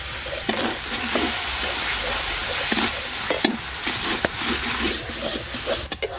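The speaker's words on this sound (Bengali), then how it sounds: "এইবার ভালো করে কষতে হবে।" Onion, ginger and garlic paste with ground chilli, turmeric, cumin, chopped tomato and salt fry in a pan for a prawn curry, giving a steady close sizzle with scraping stirs throughout.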